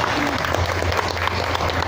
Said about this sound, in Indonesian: tepuk tangan dong sekali lagi yang meriah